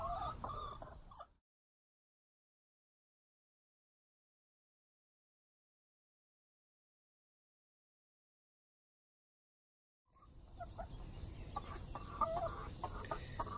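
Chickens cluck and murmur close by in short bursts, with a long stretch of silence between the two bursts of activity.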